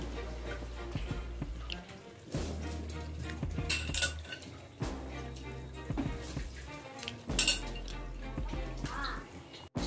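Soaked basmati rice tipped into a pan for matar pulao, with clanking of a metal pot and spoon, soft scraping and stirring, and a faint sizzle in a home kitchen; the knocks come in irregular bursts.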